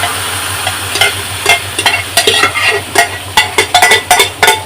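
Jackfruit kofta curry hits hot oil in a kadai and sizzles loudly, with a dense frying hiss broken by repeated sharp stirring and pan scrapes close by.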